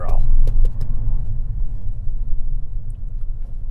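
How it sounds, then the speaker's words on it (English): Steady low traffic rumble from the road outside a £1,000 Alfa Romeo 159 in motion, a dense continuous drone with a brief louder swell at the start and faint clicks along the way. "Oh my god, the traffic is mad."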